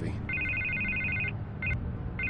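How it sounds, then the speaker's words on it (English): A telephone rings in a Batman video game on PS4, its electronic bell trilling in a long burst followed by two short bursts over low background game ambience. "I can't get the phone to stop ringing"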